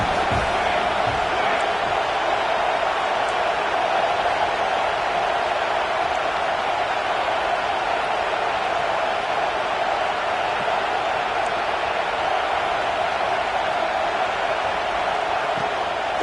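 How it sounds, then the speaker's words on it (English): Stadium crowd at a college football game against Louisville, a dense, constant roar of many voices filling the space evenly from start to finish with no breaks, broad and loud. "This crowd bringing the energy and noise early."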